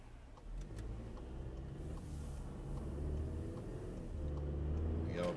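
A car pulling forward in Sport Plus mode with a pedal box fitted, a steady low engine hum and rolling noise that swells slightly, close and continuous.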